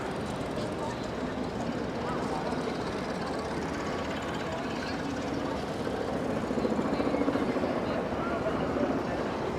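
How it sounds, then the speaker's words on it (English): Steady rotor drone from several helicopters flying overhead above Park Avenue in New York City during the Summer Streets event, a continuous low rumble blended with city ambience throughout. "There must be multiple helicopters. I hear one behind us too."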